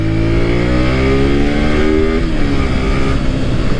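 A Honda VTR 250 motorcycle accelerates hard, a loud close engine whose pitch climbs steadily, drops at a gear change and then climbs again.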